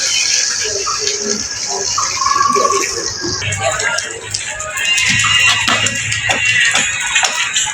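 Water gushes steadily from an electric pump motor's outlet in a rainy outdoor setting, a continuous splashing hiss with shuffling and clatter nearby, and a voice speaking over it partway through.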